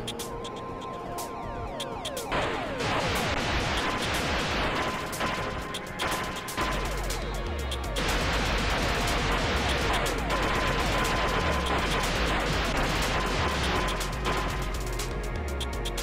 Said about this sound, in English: really good use of sample sound effects for the various phaser shots and everything else